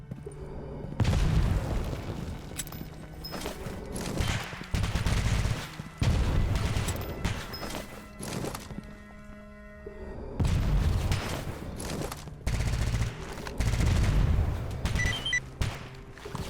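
Several heavy grenade explosions in the video game S.T.A.L.K.E.R. Anomaly boom in quick bursts, each a loud rumbling blast separated by brief quieter pauses.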